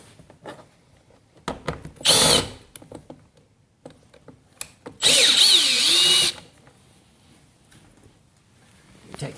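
A power drill whirs in two short, loud bursts as it backs screws out of the lower edge of a 2016 Ford F150 Lariat Supercrew door panel, with quiet handling clicks between the bursts.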